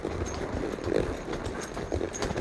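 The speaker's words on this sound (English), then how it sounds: "certainly the horse has to work." A horse climbs a hill of about 30 degrees from a river, its hooves clopping close by in an uneven walking rhythm over a quiet background.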